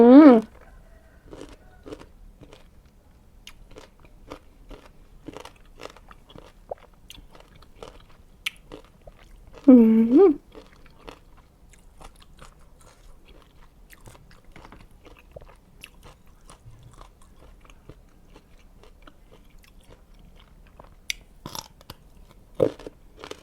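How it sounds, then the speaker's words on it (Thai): Someone bites into and chews crunchy salted pickled mango up close, with sparse quiet crunches throughout and brief bursts of voice near the start and middle. "กรอบ มะม่วงลงเกลือ"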